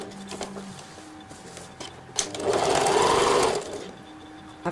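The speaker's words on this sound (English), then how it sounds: "Now move over to the sewing machine, sew it all together into a seam allowance." A sewing machine stitches a coat seam, a steady mechanical whir that swells loud for about a second in the middle, with quieter handling sounds before and after.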